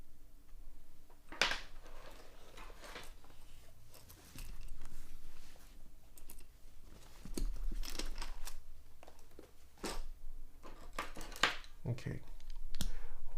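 Keys clack unevenly on a QK65 R2 mechanical keyboard, with soft scattered clicks and short bursts that come and go. A person talks over and between the keystrokes.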